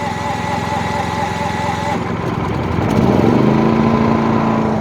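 Two Duromax XP9000iH dual-fuel inverter generators run in parallel on propane, a steady buzzing engine drone that shifts pitch and grows a bit louder partway through as the engine speed changes, with no speech.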